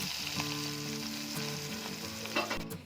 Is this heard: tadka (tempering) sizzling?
yes